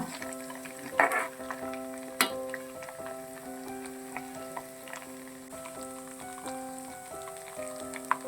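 Homemade aloe vera hair oil frying and bubbling in a pan on the stove, a steady soft sizzle with occasional clinks and scrapes from stirring, close and fairly quiet with a faint electrical hum beneath.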